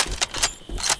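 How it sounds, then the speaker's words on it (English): A weapon being reloaded in a zombie shooter makes quick metallic clicks and clacks, two or three close mechanical bursts within about a second. "Hey, I'm reloading."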